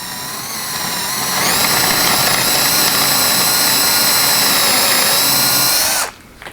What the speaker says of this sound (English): I'm going to drill straight down the center of that.